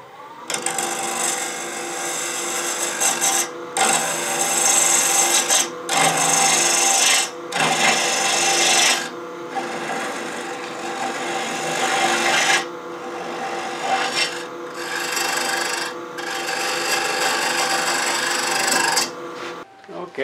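A wooden wig stand being sanded as it spins on a lathe, a steady broadband rasping hiss that runs loud and continuous, broken by a few short pauses where the abrasive lifts off the turning wood.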